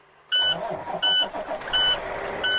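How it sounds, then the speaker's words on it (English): A truck engine cranks and turns over with a loud, rough churning, while a dashboard chime repeats its beeping in regular pulses over the starting noise. "Clutch all the way down. Hold it for 3 seconds. And start the engine."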